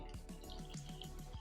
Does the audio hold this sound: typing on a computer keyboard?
no